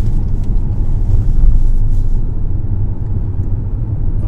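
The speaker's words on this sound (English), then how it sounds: "I'll squeeze your gas a little bit more, Erin." Car engine on a driving lesson in a new car as the learner is told to add gas: a steady low rumble and drone inside the cabin, loud and continuous, with no clear rise and no talk.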